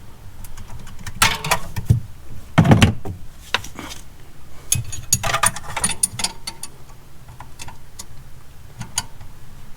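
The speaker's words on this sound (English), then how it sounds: "Let's get a longer wrench on it." A longer wrench clicks and ratchets in short irregular bursts on a bolt of the EGR bypass valve on a 2016 6.6 Duramax diesel, with metallic clanks close by.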